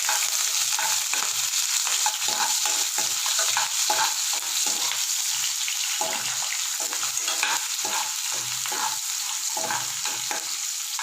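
Onions sautéing with mustard seeds and curry leaves in a pan for noodles, a steady close sizzle of frying with repeated scraping stirs throughout, no voices.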